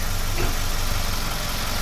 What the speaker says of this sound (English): we start the car. Car is running fine, no check engine light.